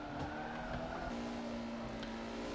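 Caterham Superlight racing on the Nordschleife in a racing game, engine howling at high revs as the rear slides out, with a continuous skidding tire squeal under the engine note.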